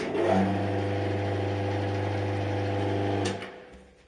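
A TV-6 lathe runs with a steady mechanical whir and a strong low hum, holding an even pitch for about three seconds before spinning down and fading out.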